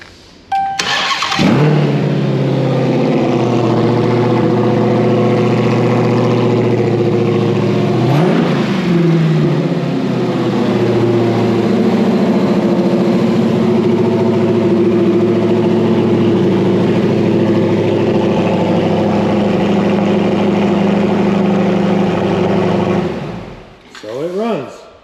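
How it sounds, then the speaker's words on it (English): The supercharged Redeye V8 of a widebody Dodge Challenger SRT Hellcat cranks and fires, settles into a loud, steady, rumbling idle with a brief blip of revs, then shuts off near the end. "it's time to test fire this Redeye engine"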